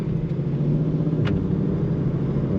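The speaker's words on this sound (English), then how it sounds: "First official test drive. 2020 GT500." A 2020 Ford Shelby GT500 on its first test drive, its engine holding a steady, loud low rumble heard from inside the car, with a brief faint tick partway through.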